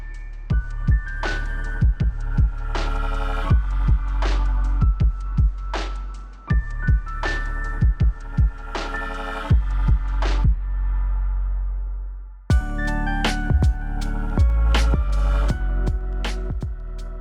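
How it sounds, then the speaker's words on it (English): A sewing machine stitches in bursts, its motor humming under a fast, rhythmic needle clatter, pausing briefly twice before running again. "make a line of stitches 2 mm off the edges using my sewing machine"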